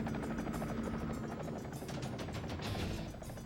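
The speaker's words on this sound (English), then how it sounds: "I made what we call a nice, fast tactical approach in the helicopter" Helicopter making a fast tactical approach near the Cambodian border during the Vietnam War, with a loud continuous rotor thump and engine roar throughout, no talk.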